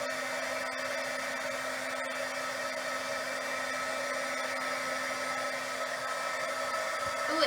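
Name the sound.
heat gun or hair dryer drying a chalk-painted pine cone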